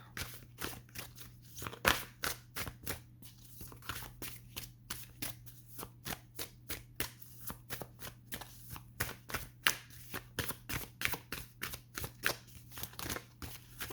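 Oracle cards are shuffled by hand up close, a rapid series of crisp riffling snaps and flicks in irregular bursts over a low steady hum.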